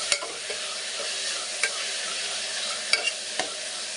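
Vegetables frying with ginger garlic paste for vegetable white pulao, a steady close hiss of sizzling oil with a few sharp scrapes and taps of a spoon stirring the pan.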